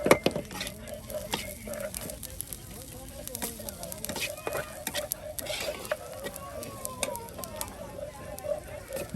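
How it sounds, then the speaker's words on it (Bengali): Onion, garlic and cumin fry together in a pan over a village cooking fire, a low steady sizzle with occasional stirring and utensil clinks under a voice talking. "এদিকে আপনার পেঁয়াজ রসুন জিরা সব কিন্তু একসাথে ভেজে নেওয়া হলো"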